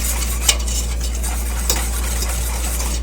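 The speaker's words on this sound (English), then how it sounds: "you just want to whisk that and bring this to a simmer here" Whisk stirring a Dutch process cocoa chocolate glaze in a pan on the stove, a steady scraping swish with faint clinks of the whisk against the metal, close and continuous with no talk.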